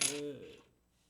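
A single bright metallic ping rings out as a 1964 silver quarter is tapped, a clear high tone that fades away within about half a second.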